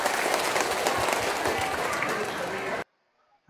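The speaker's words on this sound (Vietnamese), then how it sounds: "Đề nghị chúng ta quan lên thêm một tràng pháo tay quý vị ơi" Audience applause at a Buddhist talk, dense and loud, sustained for almost three seconds before cutting off abruptly into near silence.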